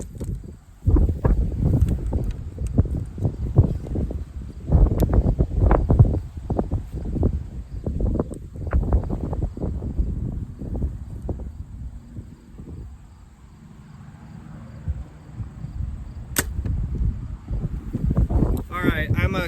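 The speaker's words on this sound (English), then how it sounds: "it's super windy out" Strong outdoor wind during archery sight practice buffets the microphone in heavy, low rumbling gusts that surge and fade throughout, loud and close, easing for a few seconds before picking up again.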